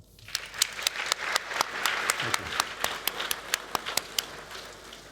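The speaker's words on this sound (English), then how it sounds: "I'd love for you to all join me in giving them a big round of applause" An audience at a tech conference applauds steadily, with sharp individual claps standing out in a quick, even rhythm over the crowd noise.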